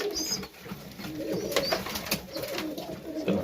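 Serbian highflyer pigeons in a loft coo softly and continuously, with a few higher chirps over the low murmur; no one talks.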